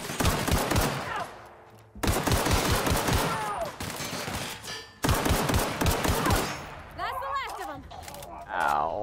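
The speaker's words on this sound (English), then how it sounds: "This dude had a light machine gun." Light machine gun fire in The Outer Worlds video game: loud sustained automatic bursts broken by short gaps, with game effects mixed in.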